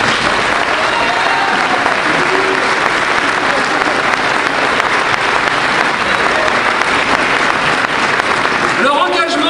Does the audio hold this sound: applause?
yes